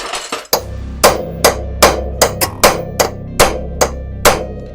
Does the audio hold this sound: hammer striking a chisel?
yes